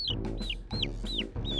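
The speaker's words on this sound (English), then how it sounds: "Baby chickens are called chicks, and today the forest kids are meeting them for the first time." Baby chicks peep in short, bright, downward-sliding chirps, about five calls in quick succession, close and fairly quiet with no talk.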